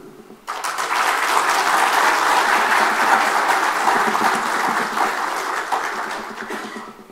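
Sustained applause from a crowd, many hands clapping steadily at full volume for several seconds before tapering slightly at the end.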